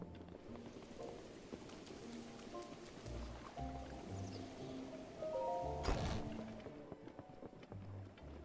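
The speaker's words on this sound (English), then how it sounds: "this rain is not doing me any favors" Rain falls in the video game Breath of the Wild as a steady soft hiss beneath gentle game music tones, with one brief louder burst near the end and no talking.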